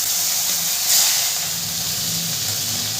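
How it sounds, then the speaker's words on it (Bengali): Khoira fish sizzle in hot oil for a spicy Bengali fish curry, a loud, steady frying hiss that runs unbroken for a few seconds with a brief surge near the start. "আবারও ওই তেলে আমি মাছ ছেড়ে দেবো।"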